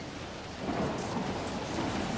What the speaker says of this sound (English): Shut the window. I hate storms.